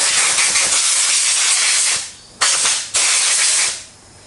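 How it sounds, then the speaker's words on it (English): A compressed-air nozzle from a shed compressor blasts through a Mazda BT50 air filter from the inside out. A loud, steady hiss runs for about two seconds, then two short bursts follow before it tails off. "I get my compressor in the shed here and blow it from the inside out"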